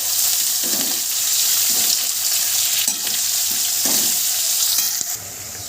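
Onions, green chillies and garlic fry in a pan with a loud, constant sizzle, broken by recurring scraping strokes as they are stirred; no voices.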